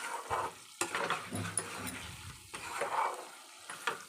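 Food stirred and frying in a pan while making Telangana bagara rice and chicken sherva curry, a steady sizzle with scraping stir strokes and occasional utensil clinks close by, no talking.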